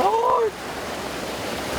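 Ocean waves wash and surge around a small raft boat used for harvesting seaweed off an island coast, a steady broad rush with a brief voice-like tonal sweep at the start.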